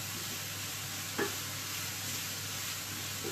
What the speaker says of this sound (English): I'm just going to take my wooden spoon and just give it a little stir